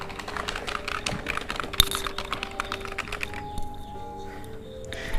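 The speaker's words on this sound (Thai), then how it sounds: "แป้นพิมพ์คีย์บอร์ด" Rapid clattering keystrokes on a computer keyboard, tapping steadily and close by, with no one speaking.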